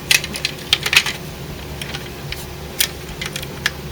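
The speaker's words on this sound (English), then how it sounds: "you can kind of fold the chest up, and then this will click into place" Plastic parts of a knock-off Transformers Deformation Commander Optimus Prime toy snapping into place, a quick scatter of light, close clicks and ticks of uneven rhythm.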